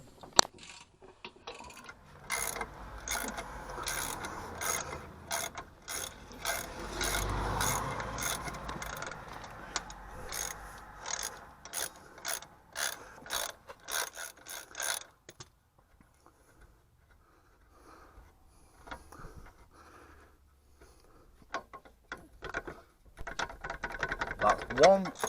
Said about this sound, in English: I'm going to remove two bolts off damper, just to the right hand side